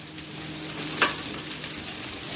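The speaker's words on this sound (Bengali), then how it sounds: "পটল ভাজা চলছে" Pointed gourd (potol) slices frying in a pan in a home kitchen, a steady close sizzle with one sharp crackling spatter about midway, no voices.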